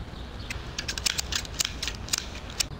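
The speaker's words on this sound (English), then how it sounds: "Can we take the scissors with us?" Scissors handled in a video game, a run of quick crisp metallic snips and clicks in irregular rhythm, close and clear, with no voices.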